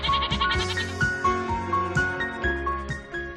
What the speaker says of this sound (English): A female goat is called a doe and a male goat is called a billy.